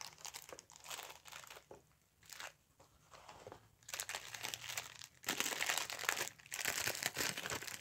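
Plastic bag wrapping around an Invicta Venom Hybrid watch, model 34604, with a yellow clamshell case, crinkles and crackles up close in bursts that grow louder and denser toward the end, with no talking.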